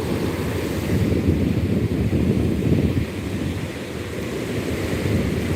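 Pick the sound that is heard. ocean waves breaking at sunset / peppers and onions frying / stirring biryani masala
ocean waves breaking at sunset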